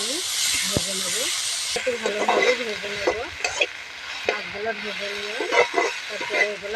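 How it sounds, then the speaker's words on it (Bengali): Fish frying in a little oil, a steady hissing sizzle that fills the background while someone speaks over it, with faint stirring clinks now and then. "আমি ভেজে নেবো একটু ভালোভাবে ভেজে নেবো মাছগুলো"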